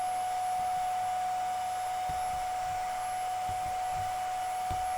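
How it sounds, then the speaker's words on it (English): A vacuum cleaner runs steadily and loudly while sucking dust off the mesh of an IKEA Järvfjället office chair, a continuous whine with faint bumps as the nozzle moves. "it's also one of the most satisfying things to vacuum"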